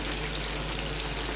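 Wild duck fries and bubbles in a pan, a steady, close crackling sizzle with a low hum underneath and no talking.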